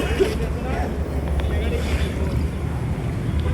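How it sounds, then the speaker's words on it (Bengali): A boat moves on the Turag river near a Mirpur embankment, a continuous low rumble of engine and water with wind buffeting the microphone, steady and fairly loud throughout. "তুরাগের বুকে চিরে বয়ে যাওয়া নৌকা আর ঢেউয়ের শব্দ"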